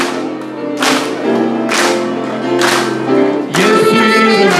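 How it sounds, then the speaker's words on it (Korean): A church congregation claps in rhythm during a Korean hymn at a 76th anniversary Korean War memorial union worship service, with steady sharp claps over organ or keyboard music and singing voices, loud and near. "박수 치면서"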